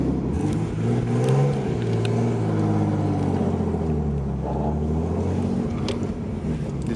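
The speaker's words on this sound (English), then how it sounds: "It's so weird seeing this car drive." A Nissan R33 Skyline fitted with an RB30 engine drives past nearby, its engine note rising and falling as it revs, loud and steady with no talk.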